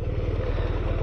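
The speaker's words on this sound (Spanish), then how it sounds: "Y con el ruido de esta moto" Steady, low BMW R1200R motorcycle engine rumble, close by and continuous, with a slightly uneven throb.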